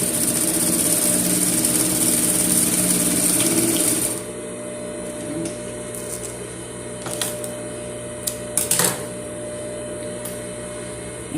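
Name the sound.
sewing machine stitching a necessaire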